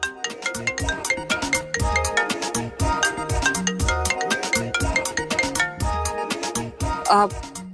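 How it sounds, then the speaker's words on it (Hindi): A mobile phone rings with a melodic, repeating ringtone tune, loud and close, its chiming notes cycling steadily throughout during a rehearsal. "रोहन आपका फोन बज रहा है।"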